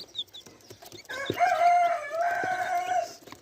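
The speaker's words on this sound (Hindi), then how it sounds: "ये देखें जी 8 चिक्स हैं बहावलपुर के लिए।" Black-breed chicks packed for shipping call out with loud, close peeps and a sustained crowing-like cry, with shuffling handling noise beneath.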